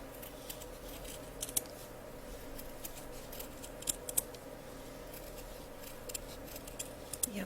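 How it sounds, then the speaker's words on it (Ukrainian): Scissors snip around the edges of a foamiran circle during a craft session making hair ties, with soft, faint cuts repeating irregularly against a quiet room. "Так, ми обрізаємо краєчки спочатку."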